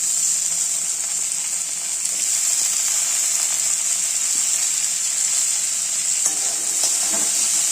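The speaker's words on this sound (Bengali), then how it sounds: "দিয়ে আবার নেড়ে ছেড়ে ভেজে নেব।" Salted potato and bean pieces fry in a pan while being stirred, a loud unbroken sizzle close up with a few light scrapes and clatters near the end.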